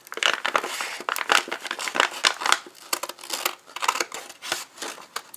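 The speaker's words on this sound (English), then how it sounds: "So the next thing I do is I cut off the edge about 1/8 of an inch." Scissors snip along the edge of thick, folded journal pages, making a steady series of crisp, close cutting crunches with brief pauses between them.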